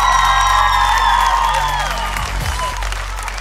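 Crowd applause and cheering from a TV show audience, steady clapping with whoops, under a loud tonal music or announcer bed that bends and fades, close and dense.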